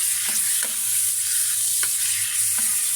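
Food sautés in a pan before vegetables go in for ginataang kalabasa at sitaw, giving a steady close sizzle broken by a few soft scraping stirs of a utensil.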